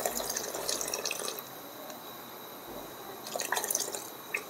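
Milk-water mixture poured into simmering sugar syrup on a low gas flame for mini rasgulla, giving soft dripping, splashing liquid sounds that swell and fade in two short bursts, close by, with no talk.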